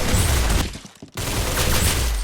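Rapid gunfire from the Roblox shooter Arsenal, a loud, dense burst of shots that cuts out briefly for about half a second and then resumes, with no talking.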